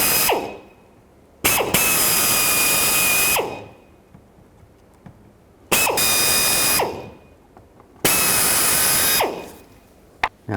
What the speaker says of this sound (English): we're going to have to drill these holes a little bit bigger